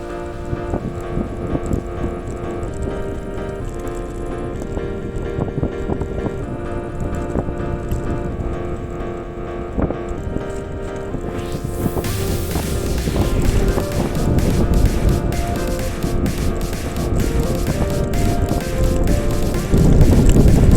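A bicycle with a handlebar phone mount rattles and shakes along a rough dirt road at gradually rising speed, a dense continuous clatter with wind buffeting that grows louder and harsher after the midpoint.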